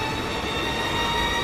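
Steady rumbling train noise from a moving train in Resident Evil 3, a continuous broad roar with high metallic ringing tones, loud and close throughout with no breaks.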